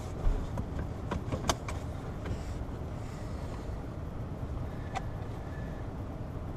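Lexus LS 430 sedan on the road, a steady low engine and tyre rumble with wind noise, continuous and moderately loud, a few brief knocks and clicks early on, no talking.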